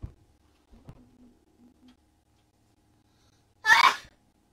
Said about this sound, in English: Bless you